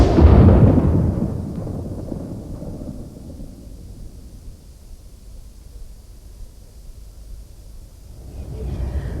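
A muzzle-loading cannon fires aboard the Victorian ironclad HMS Warrior, a single heavy boom at the start that rolls and decays into a long low rumble, loud and close, with a faint rise in noise near the end.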